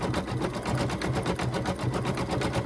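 An embroidery machine stitches the feet of a bunny tummy treat holder with a steady, close, rapid needle rhythm and no talking.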